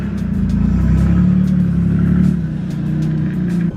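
A used Ford Windstar minivan pulls away with a loud, steady low engine drone and road rumble, close by and holding level for several seconds with no talking.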